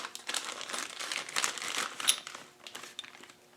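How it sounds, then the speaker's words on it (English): A plastic bag of HD gearbox parts for an LT230 regearing kit is opened, crinkling and rustling in close, irregular bursts with one sharper crackle near the middle. "let's open the bag"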